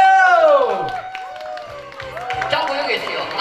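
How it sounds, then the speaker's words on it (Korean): An audience at a comic stage show at Bugok Hawaii applauds and cheers, with a crowd roar under a loud, pitch-sliding voice and scattered claps. "박수 한번 주세요!"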